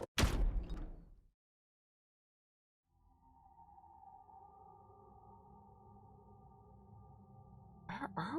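Door in the video game Virtue's Last Reward: a loud mechanical slam at the start, silence, then a long steady electronic hum with a rising whoosh at the end.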